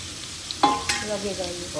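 A quick toss of vegetables and pepper in a hot pan for Kolkata-style Indo-Chinese stir-fry: a sharp scrape and clatter, then a soft sizzle that fades as the vegetables settle, with no talking.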